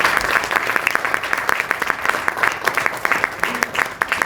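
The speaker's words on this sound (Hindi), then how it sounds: "एक बार जोरदार तालियां हो जाए" A workshop audience gives loud applause for monologue performers, sustained dense clapping with sharp individual claps standing out near the listener, no talking over it.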